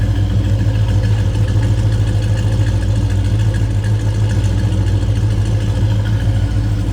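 Original numbers-matching 440 four-barrel V8 in a 1970 Plymouth GTX, fitted with an Edelbrock carburetor, idles steadily and loudly up close with a deep, even lope throughout.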